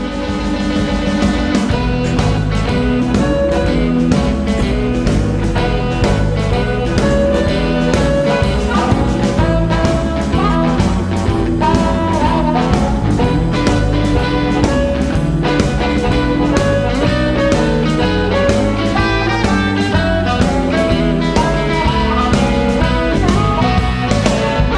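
A live band with guitars and a microphone, recorded through a PowerBook, plays a full, loud, dense mix throughout with no speech.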